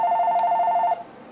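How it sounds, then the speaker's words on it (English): A telephone rings with an incoming call: a single steady electronic tone held for about a second, loud and close, then cutting off into quiet room noise, with no talk. "this is a terrible time to get a phone call"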